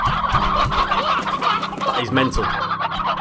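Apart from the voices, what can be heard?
hens clucking in the video game Slime Rancher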